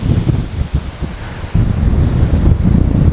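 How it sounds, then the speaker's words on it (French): Strong wind gusts blow outdoors on a height behind a large Buddha statue, buffeting the microphone with loud, rumbling low roar that surges after a brief lull, with no speech. "Waouh, le vent."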